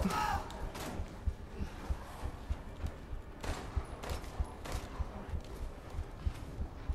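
Gunshots ring out in Resident Evil Village, a scattered run of sharp bursts and thuds spread across the span, moderately loud with game noise between them and no talking.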